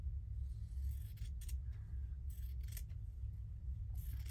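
Scissors snip through thin cotton fabric in a few quiet, brief crisp cuts spread over a few seconds against a low background rumble.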